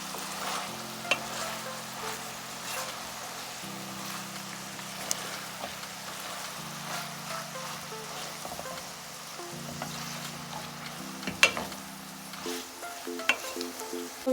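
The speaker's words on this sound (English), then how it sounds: "she's gonna give it a good mix so everything can blend in well now into the ground meat" Ground meat with onions, cilantro and green chili being stirred in a hot pan, a steady sizzle and frying hiss under irregular scraping of the spoon, close and continuous, with no talking.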